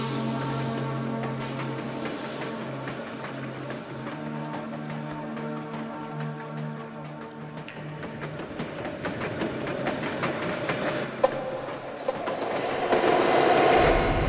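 A train carriage rolls along in the Darkfall video game with a continuous low rumble and rhythmic clickety-clack that grows louder and rougher toward the end.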